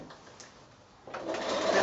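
A sewing machine running a longer stitch through elastic straps on a quilted project bag, quiet at first, then a soft steady whirr starting about halfway and continuing to the end.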